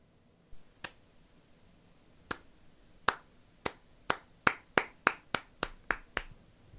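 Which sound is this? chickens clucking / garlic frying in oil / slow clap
slow clap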